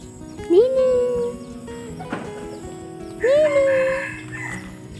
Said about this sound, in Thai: ไปอยู่ใน เล้าไก่ ซูมไก่ครับ